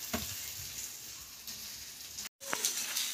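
Marinated fish coated in corn flour frying in a pan, a steady close sizzle with a few sharper crackles and a brief cut near the end.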